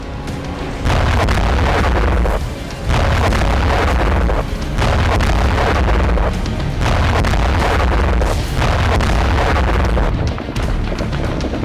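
Missile strikes hit the Reni port in Odesa, heard as a sustained, loud roar of explosions and rumbling booms that swell and dip over several seconds, with no voices.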